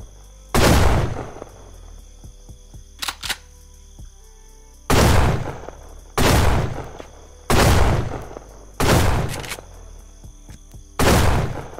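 Seven loud, booming shotgun blasts in the mobile game Rust fire at irregular intervals, each a sharp burst followed by a short decaying tail, with quiet gaps between.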